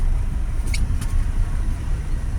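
Road traffic rumbles in a steady, loud low drone with passing cars, heard close by, with a couple of brief higher squeaks partway through.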